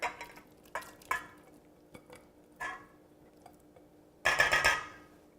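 Egg mixture with softened corn tortilla chips, lime and salsa verde being stirred with a utensil, giving scattered light clinks and scrapes and a louder, denser burst of clattering near the end, with no talk.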